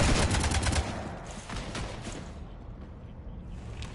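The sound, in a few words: gunfire shooting at a ship in a video game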